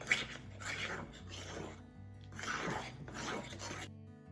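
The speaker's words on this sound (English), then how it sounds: "make sure to scrape the sides of the bowl so you don't leave anything out." Spatula scraping cupcake batter from the sides of a mixing bowl for a lemon-lime dessert, a series of four rasping strokes at close range with no talking.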